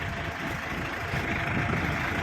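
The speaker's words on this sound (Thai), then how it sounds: "เอารถไถขึ้นครับ" A farm tractor drives up onto a new trailer, its engine a steady low rumbling drone, fairly close and continuous with slight rises in loudness and no talk.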